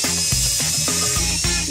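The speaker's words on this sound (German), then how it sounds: "Und wenn ich eine Bohrmaschine benutze?" A power drill whirs in repeated short bursts against a cola can, each pulse rising and dropping with a steady, close, harsh whine and no talking.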